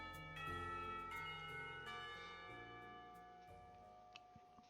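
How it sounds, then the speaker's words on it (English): A school bell ringing in the Katawa Shoujo visual novel game, sustained tonal chimes striking in a slow sequence and ringing out over a soft music bed, clear and moderately quiet. "Somewhere, the school bell rings their last call for the day."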